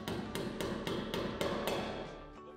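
Hammer blows driving a wall anchor into masonry while fitting an aluminium starter rail for facade insulation, about seven sharp, evenly spaced taps close by with no talk.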